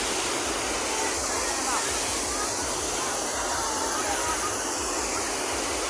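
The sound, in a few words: Tad Loh waterfall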